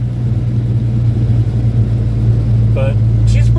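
An M11 Cummins dump truck engine drones in a low, steady rumble as it revs near redline between gears, heard from inside the cab while someone talks over it.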